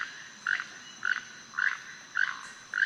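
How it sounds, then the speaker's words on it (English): A keel-billed toucan gives a regular series of five raspy, frog-like croaks, each short and fairly loud, spaced about half a second apart against quiet background hiss. "So it sounds a bit like a frog."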